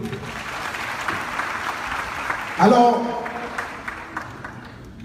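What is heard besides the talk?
audience applause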